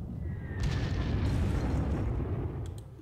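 A bombing explosion in the World War II strategy game Panzer Corps, a whistling fall followed by a deep, sustained rumbling blast that holds loud for a few seconds before fading slightly.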